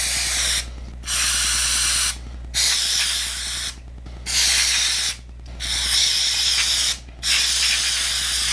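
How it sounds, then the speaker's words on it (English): Lubricant sprays onto a Keltec PMR30 .22 WMR pistol with a plastic frame in five loud, close hissing bursts. Each lasts about a second, with short gaps between them. "Come in, a little lubricator."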